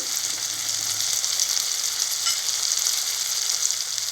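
Tomatoes with turmeric and chilli powder sizzle steadily in a pan for garlic kulambu, a dense, even frying hiss held close and continuous with no pauses.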